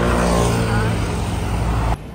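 A loud, close rush of passing cars on a road, a dense broadband roar that cuts off abruptly near the end.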